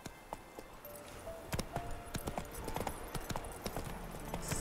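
Horse hooves in The Witcher 3: Wild Hunt clip-clop at a walking pace, a series of close, distinct thumps over quiet game ambience, no voices.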